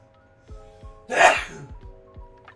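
A single loud sneeze bursts out near the mic, preceded by a quick sharp inhale, with faint low background murmur around it.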